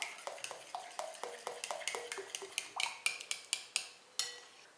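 A spoon stirs an ice cream mixture by hand in a bowl, giving a steady series of light metallic clinks and scrapes, roughly three or four per second, close and quiet with no voices.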